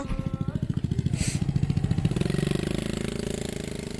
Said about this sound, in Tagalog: Madaming motor.